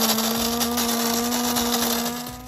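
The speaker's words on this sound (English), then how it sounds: "Step one is to grind the beans." An electric coffee grinder grinding coffee beans, a loud, steady motor whine with a constant pitch that holds without a break before trailing off slightly at the end.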